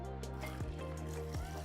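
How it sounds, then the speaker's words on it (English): Water poured over short-grain Japanese rice in a bowl while it is being washed for tamago nigiri; a soft, quiet, steady trickle and splash running alone. "So first, pour over the water"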